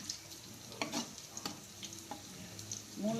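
Brain pepper fry sizzles in a pan on a stove at full flame, with a steady frying hiss broken by several clinks and scrapes of stirring, close and alone.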